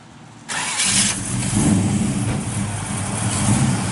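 A 1955 Chevrolet Bel Air two-door hardtop cranks and fires up, its engine catching after a half second and settling into a steady, loud rumbling idle, close by with no talking.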